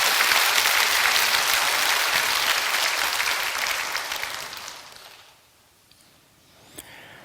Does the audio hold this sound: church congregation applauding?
yes